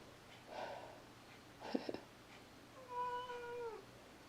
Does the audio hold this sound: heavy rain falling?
no